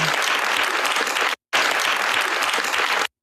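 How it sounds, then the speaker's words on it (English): A crowd at a political bill-signing gathering claps and cheers in two dense bursts, separated by a brief silent break. "Clapping, celebrating, smiling, rejoicing"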